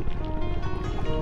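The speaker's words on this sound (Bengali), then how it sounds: "নৌকার বৈঠা দিয়ে নৌকা বাইতেছে" A wooden boat is rowed with a paddle through the Ratargul swamp forest in Sylhet, giving a steady low churning wash of water and hull noise, close and fairly loud, with no clear talk.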